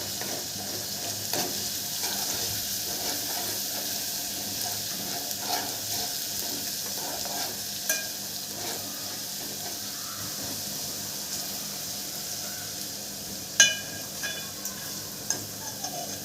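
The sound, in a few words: garlic and curry leaves frying in a pan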